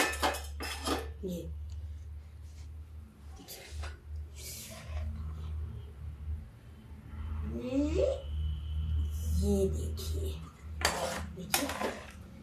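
Matar malai sabzi with cashews and raisins is spooned into a serving dish in a home kitchen, with intermittent clinks and scrapes of a metal spoon against the pot and dish under a woman's occasional speech.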